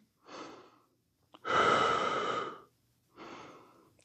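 Three slow breaths during a stick mobility stretch: a short inhale, a longer, louder exhale and a final softer breath, close up with pauses between them.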